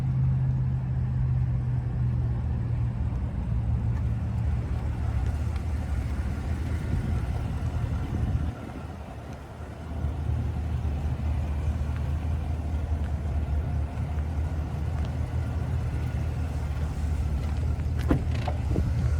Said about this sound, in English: I'm really interested in seeing how it rides with the magnetic ride control and the air ride suspension.